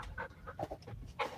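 Puppy panting close to the listener in quick, rhythmic breathy huffs that run steadily through the moment, with no voices.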